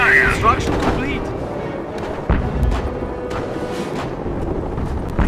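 Gunfire and artillery in a World War II real-time strategy battle game, with booming impacts, a sharp blast midway and scattered shots under game voice callouts.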